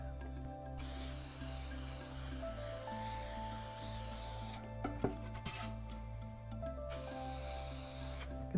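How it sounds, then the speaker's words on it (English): Spray adhesive hisses from a nozzle onto a piece of 1-inch upholstery foam in two long, steady bursts separated by a brief pause with light handling noises, close and fairly quiet. "Let's start off using this as a spray adhesive. Just give that foam a coat of glue."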